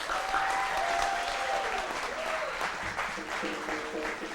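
Sustained audience applause fills the room after a live jazz performance, dense steady clapping throughout with a faint lingering musical tone early on and no speech.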